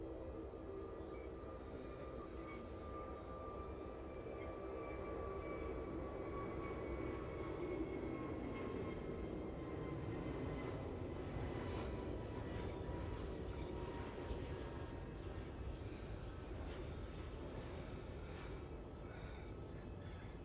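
Jetstar airliner taking off from Melbourne Airport, its engines a steady broad roar that holds for the whole stretch, with a slowly shifting whine riding on top and no voices.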